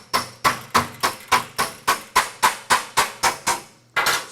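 Sheet metal body panel for a cowl being hammered out, about thirteen sharp, evenly spaced metallic blows that each ring briefly, with a short pause before the last strike, close by and with no talk.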